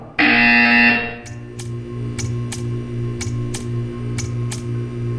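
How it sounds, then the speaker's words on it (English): A loud sustained buzzer blares for about a second in Portal 2, then a series of sharp, evenly spaced ticks or clicks follows over a low steady hum. "You will hear a buzzer. When you hear the buzzer, stare at the art"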